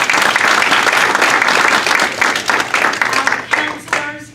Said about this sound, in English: I think that's worth an applause.